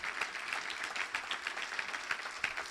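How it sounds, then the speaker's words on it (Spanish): A church congregation applauds during a sermon, a soft, fairly distant spread of many hands clapping for a few seconds. "Denle un aplauso al Señor."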